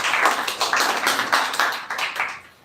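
Audience at a school computer education speech contest clapping for a student, a close, rhythmic patter of hands in quick pulses that tapers off at the end.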